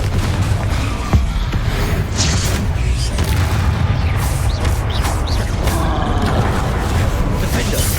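Blasting spell explosions in the game Hogwarts Legacy, a heavy low boom rumbling under dense crackling and mechanical clatter, loud and sustained with a sharp hit near the start.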